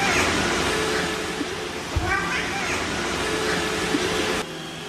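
An orange cat named Gambino gives a short meow from behind a fridge, faint and brief amid a steady hiss of background noise.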